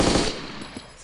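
A short, close burst of gunfire in the survival video game DayZ, a dense rattle at the start that fades quickly into quieter noise within about a second.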